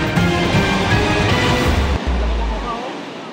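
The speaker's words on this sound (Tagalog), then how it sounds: "Sa lakas ng agos ng tubig mula sa katabing ilog, umapaw ang tubig" Rushing floodwater from an overflowing river beside a damaged road in Barangay Silangan, a loud continuous broadband roar that holds steady, briefly dips, then thins out near the end.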